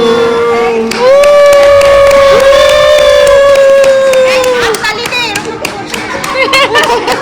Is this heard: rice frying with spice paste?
no